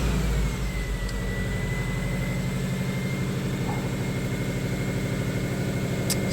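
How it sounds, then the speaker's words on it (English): A 2010 Subaru Forester engine, cold, cranks and fires up, then settles into a steady, loud running drone with a faint high whine throughout. "Start the car up quick here."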